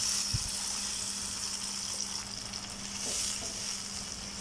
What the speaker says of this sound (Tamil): இதோடையே கொஞ்சமாக குக்கரை கொஞ்சம் அலசி தண்ணி சேர்த்துக்கலாம்.